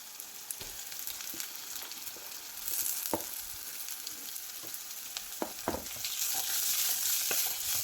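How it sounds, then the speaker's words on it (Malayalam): Grated coconut and shallots frying in a pan for an Onam sadya kootu curry made with yam, raw banana and chickpeas, a steady close sizzle with scattered clicks and scrapes of stirring. "നല്ലതുപോലെ ഒന്ന് തേങ്ങ നല്ലതുപോലെ ഒന്ന് ഫ്രൈ ആയി വരണം"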